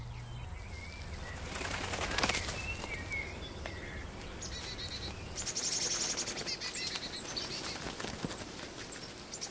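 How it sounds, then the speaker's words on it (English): A flock of sparrows flies into a field of ripe summer wheat. Soft wing flutters and scattered chirps sit under a constant high insect buzz, with no voices. "The ripe ears of wheat have a magical attraction for songbirds. Flocks of sparrows arrive."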